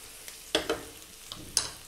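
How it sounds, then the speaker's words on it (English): Onions and garlic fry in a pan for a Middle Eastern chicken and cumin lentil dish, giving a constant soft sizzle with a few sharper crackles and stirring clicks, close and without talk. "So we've been frying our onions for about 3 or 4 minutes."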